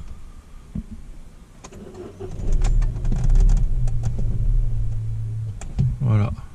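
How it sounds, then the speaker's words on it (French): Car engine struggling on a cold start, stalling and choking when the throttle is opened, with a low rough rumble that rises and then dies away, plus a brief rattle near the end; a voice speaks over it. "si j'accélère, elle cale, elle s'étouffe"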